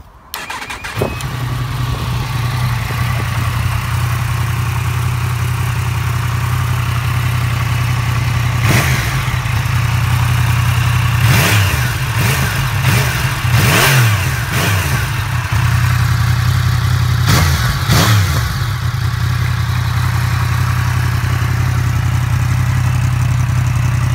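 A 2017 Yamaha MT-10 SP motorcycle starts with a brief crank, then settles into a steady, loud idle, broken by several short, sharp revs of the engine.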